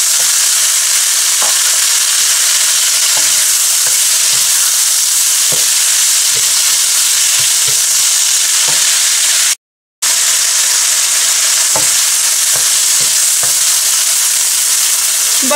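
Tomatoes tipped into golden-fried bitter gourd crackle and sizzle steadily in the pan, with scattered clinks of the spoon stirring throughout and a brief silent gap partway.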